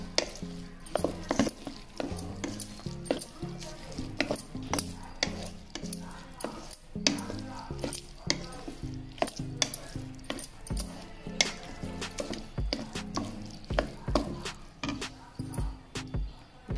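Carrot pieces are stirred in a pan, with irregular scraping and clinking of a spoon against metal over a light sizzle, continuing steadily without speech.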